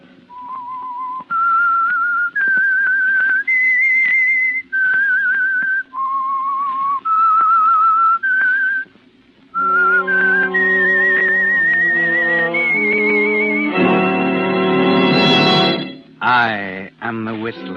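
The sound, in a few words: whistled theme signal of The Whistler radio program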